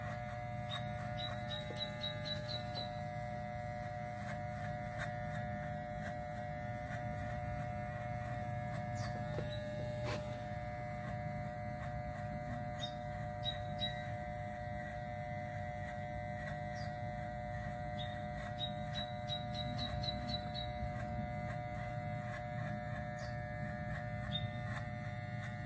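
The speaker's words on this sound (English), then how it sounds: "you go back to your Walmart clipper with it closed, the closest point, and do the same thing again at that same spot" A cheap Walmart electric hair clipper buzzes steadily and close throughout a skin fade haircut, a constant hum with faint higher whine, no talking.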